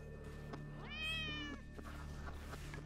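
A single drawn-out meow from a cat in a video game, clear and mid-distance, over a steady low background hum.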